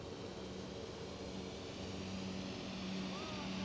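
An Eachine T-28 Trojan beginner RC plane motor drones steadily through a takeoff, a continuous buzzing whine under wind noise, fairly distant and even in level.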